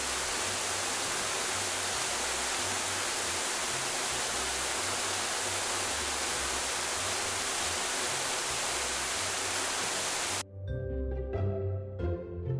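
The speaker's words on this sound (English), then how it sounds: "A waterfall is a place where water flows over the edge of a steep, high cliff in hills or mountains and falls into a pool below." Steady broadband rush of water pouring over a high cliff into a pool below, loud and continuous like a waterfall, cutting off near the end into a brief snatch of music.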